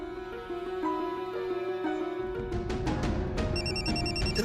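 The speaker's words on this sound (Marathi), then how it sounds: "फोन वाजला कुठेतरी." A phone ringtone chimes in a Marathi TV serial scene, entering as bright repeating electronic tones over a bed of dramatic background music in the last second or so.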